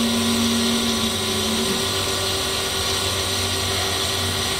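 A Brown & Sharpe Micromaster 6 x 18 inch surface grinder with a 2 HP motor runs at its slowest speed, giving a steady, moderately loud mechanical hum with a faint tonal whine that shifts slightly partway through.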